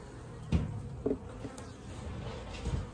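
Honey bees swarm around an open hive during a hive split, a steady close buzzing hum with a few sharper passes and light knocks of the hive frames.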